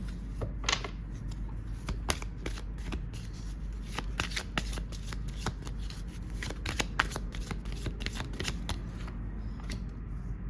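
Oracle cards are shuffled by hand in a steady run of soft riffling slaps and flutters for about ten seconds, close and moderately quiet over a low steady background hum, with no speech.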